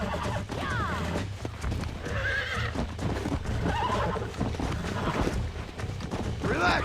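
A horse in the Red Dead Redemption video game whinnies loudly while its hooves clip-clop at a gallop, with continuous game sound and commotion throughout.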